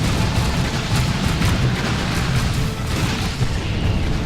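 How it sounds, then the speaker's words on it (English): Grenade explosion in the video game Dawn of War 2, a dense, booming rumble of blasts and battle noise that stays loud and continuous throughout. "See if we can get a grenade on there."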